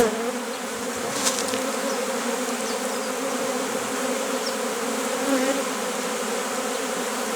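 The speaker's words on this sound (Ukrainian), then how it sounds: "Не влазять бджоли у ящик" A dense, steady drone of honey bees buzzing fills the air continuously, close and loud, with no talking, as bees are moved into a box in March.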